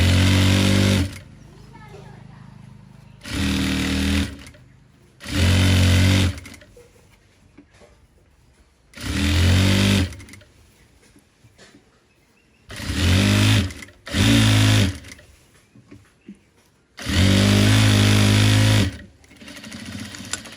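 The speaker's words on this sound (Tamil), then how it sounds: "இப்போ வந்து கீழே மடித்து தைப்போம்." Sewing machine stitching a folded hem on a girl's gown, running in several loud buzzing bursts of one to two seconds with quiet pauses between, close by, with someone talking softly in the gaps.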